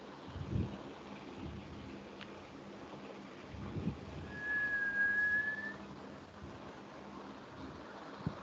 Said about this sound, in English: Who's whistling right now?